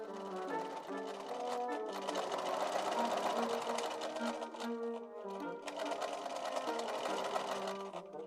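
A domestic sewing machine stitches the curved inside leg seam of Victorian open-drawer bloomers, running in a steady, close, continuous whir with a brief pause partway through.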